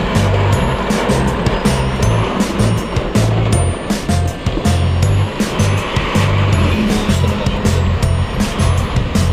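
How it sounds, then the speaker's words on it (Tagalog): A car pushes through floodwater on a subdivision street during heavy rain, its splashing surge and engine noise loud and close, with rough watery rumbles running throughout and rain noise crackling on top. "Oops, may sasakyan."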